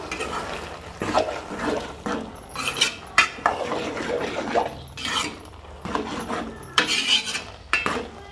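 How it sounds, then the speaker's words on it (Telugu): A spoon stirs raw prawn curry with tomatoes in a pot, giving repeated close scraping and rubbing strokes against the metal with wet squelches, in uneven bursts with short pauses between them, and no talking. "టమాటాలు అయితే వేసుకుందాం. మరి కలపాలి"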